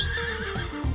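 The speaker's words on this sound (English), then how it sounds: "our horses love it too. We're just saying and neighing." A horse whinnies in a drawn-out neigh, heard close and fairly loud for about a second, with faint clip-clop sounds in the background and no talking.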